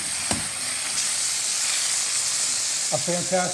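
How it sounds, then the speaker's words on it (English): Chicken organ meat sears in a hot pan, giving a constant bright hiss with a sharp clatter at the start and a few short tonal squeaks near the end. "we're gonna put that in the pan, get a nice little sear going on that"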